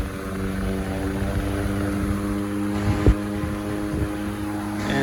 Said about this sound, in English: for this size of fan, these move a lot of air